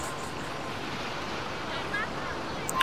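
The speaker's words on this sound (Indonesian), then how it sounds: "Sampai dari kejauhan, ombak mulai datang." Ocean waves sound effect in a beach-set radio drama, a continuous broad surf wash with soft wind, steady and moderately loud, without clear foreground speech.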